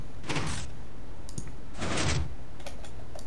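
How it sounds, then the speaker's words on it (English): Two Minecraft pistons in a piston house fire in turn, each giving a whooshing mechanical push, the pair repeating twice at a steady pace, with lighter clicks between. "This is just two pistons by 2 pistons that push"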